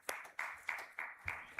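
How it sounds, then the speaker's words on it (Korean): A church congregation claps during a Sunday worship service, with about six evenly spaced, fairly faint rhythmic claps in quick succession and no talking. "하나님께 영광의 박수 올려드리겠습니다."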